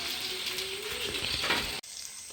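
Prawns frying in a pan give a steady, close hiss of hot oil that cuts off abruptly near the end.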